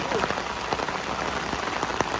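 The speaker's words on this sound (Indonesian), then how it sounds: "Di hujan lebat, luar biasa lebatnya." Heavy rain pours down in a dense, constant hiss, with close drops pattering on a surface and a faint trace of voices underneath.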